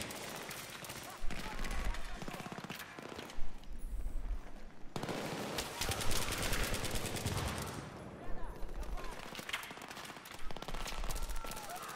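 Rapid automatic gunfire in the video game Battlefield 3, with bursts of shots and heavy thumps rattling on and off throughout, mixed with game noise.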